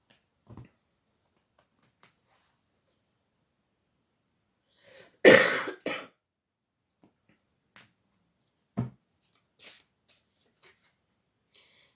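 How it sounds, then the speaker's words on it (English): A few isolated coughs in a mostly quiet room, one harsher burst midway and a shorter one later, close by, with scattered small noises between. "thought I was going to get away without the coughing, obviously not"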